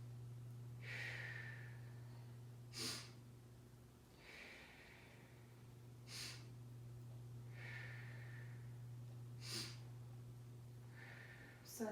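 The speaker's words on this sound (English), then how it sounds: "So as you inhale, you should see a quick expansion of the belly, and then gentle exhale." Quick belly inhales followed by gentle exhales in a breathing exercise, faint soft breaths repeating every few seconds over a steady low hum, quiet and close.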